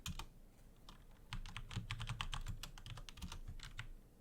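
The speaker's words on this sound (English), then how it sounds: "It's an interesting podcast to listen to someone type." Rapid clicking of someone typing on a computer keyboard, quiet and close, with irregular bursts of keystrokes and a few short pauses.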